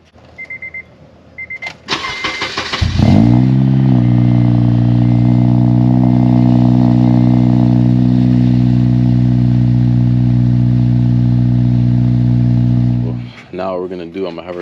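A loud Ford Mustang engine cold-starts after a few short chimes and a brief crank, then settles into a deep, steady, rumbling idle that holds close and strong for about ten seconds before cutting off.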